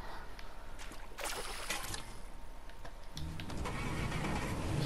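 A car engine in Fortnite turns over and revs as the vehicle pulls away, a steady close mechanical rumble with a brief rattle of starter noise early on, quiet overall.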